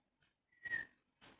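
A patient whistles through pursed lips during a facial nerve check in a cranial nerve physical exam. Two short, faint, breathy whistle bursts sound close in an otherwise quiet room.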